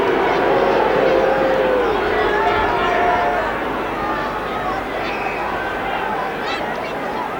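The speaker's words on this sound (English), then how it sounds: "The crowd don't like it." A football crowd at a Grimsby Town league match lets out a sustained, dense roar of grumbling and jeering at a booking, loud at first and easing slightly as it continues.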